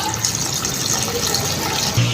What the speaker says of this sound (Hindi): अब मैं इसमें गोश्त गलने का पानी डालने लगी हूँ